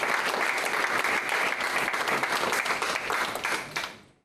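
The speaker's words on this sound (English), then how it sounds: "again, a round of applause for Olenka." Audience applause ringing out as a thick, steady burst of many people clapping together, fairly loud and close, then fading away quickly at the end.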